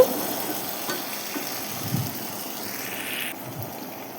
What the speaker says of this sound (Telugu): ఆ పేస్ట్ని ఆయిల్లో మంచిగా ఆయిల్ అంతా పైకి తేలిందాక దాన్ని ఫ్రై చేసుకోవాలి